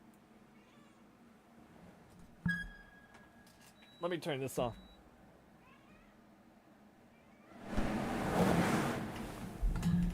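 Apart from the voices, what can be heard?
cat meowing loudly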